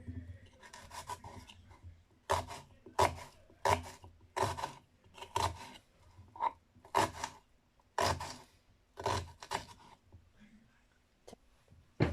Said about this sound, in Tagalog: ang unang gagawin ko po ay magcha-chop po ako ng mga ganito